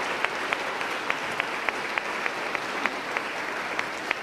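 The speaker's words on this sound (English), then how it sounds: "So I just want to give Marie a round of applause." A lecture audience gives a round of applause, steady clapping from many hands filling the room, with a few sharper individual claps standing out at regular intervals.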